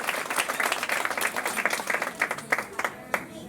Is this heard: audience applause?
yes